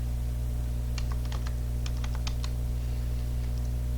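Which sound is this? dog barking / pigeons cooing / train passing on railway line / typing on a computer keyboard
typing on a computer keyboard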